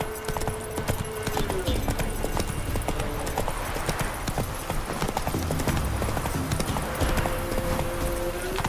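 Roach the horse galloping in The Witcher 3, with rapid, rhythmic hoof clip-clops pounding steadily throughout and occasional brief snorts over the hoofbeats.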